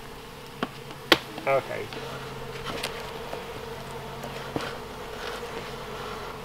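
Bumblebees bought online for greenhouse pollination buzz around a cardboard hive, a steady droning hum with a few sharper buzzes and knocks near the start, with a brief spoken word early on.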